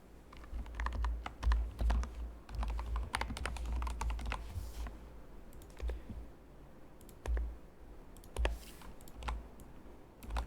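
Quick, uneven bursts of keystrokes on a computer keyboard while entering a temporary password into JavaScript code, close and fairly quiet, with pauses between runs of clicks.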